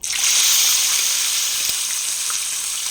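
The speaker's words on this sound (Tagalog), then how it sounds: "Siyempre, sasalang ko na yung fish, yung barillete." Barilete fish sizzles and crackles loudly in a pan of hot oil as it goes into the Filipino diningding, a steady dense frying hiss throughout.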